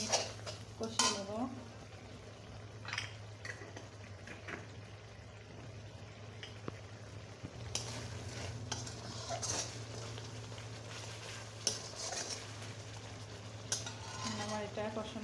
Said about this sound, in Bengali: এখন এই মশলাটা আমি 1 মিনিট কষিয়ে নেব।